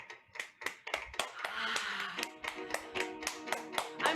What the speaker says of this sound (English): I'm clapping for all of you